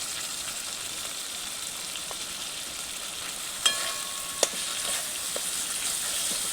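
Ginger-garlic paste, chopped tomato and cumin paste sizzle together in a pan for jackfruit curry, a continuous even frying hiss with a couple of sharp spoon knocks against the pan, no voices.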